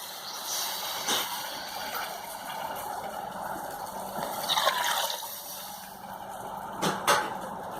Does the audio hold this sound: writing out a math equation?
no